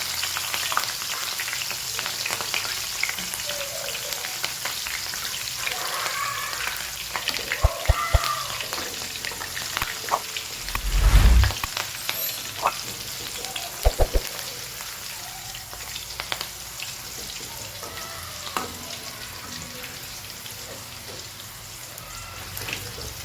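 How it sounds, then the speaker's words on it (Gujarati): Curry leaves and green chillies fry in hot oil, giving a steady, moderately loud sizzle with a few brief knocks and clunks from the pan partway through. No one speaks. "હવે આપણે એમાં લીમડો અને સાથે લીલા મરચાં પણ તળી લઈએ."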